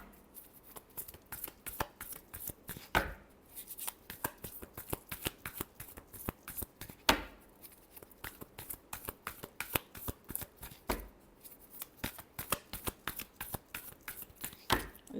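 A tarot deck is shuffled by hand in a quiet room, giving rapid crisp riffles and taps in an uneven, continuous rhythm with a few sharper slaps, close and fairly soft, with no talking.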